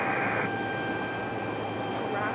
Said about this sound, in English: That American Airlines 737 we saw making its way out on the move.